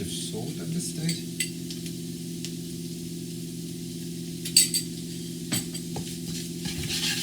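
Fried rice with kale tossed in a hot pan gives a steady, even sizzle, broken by a few light clinks and scrapes as it is flipped.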